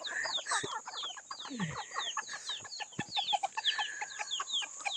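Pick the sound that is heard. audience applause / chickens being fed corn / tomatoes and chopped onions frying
chickens being fed corn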